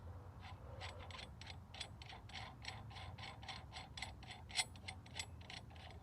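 A ratchet wrench threads 1/2-inch by 20 wheel spacers, 1 inch thick, onto a car's wheel studs. It gives a steady run of quick, faint, close clicks, with no talking.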